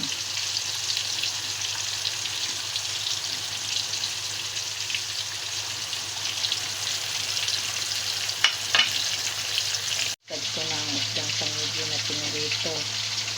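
Tangigue fish fries in a pan of hot oil, giving a continuous bright sizzle with light crackles. A brief cut occurs near the end, followed by faint clattering under the frying.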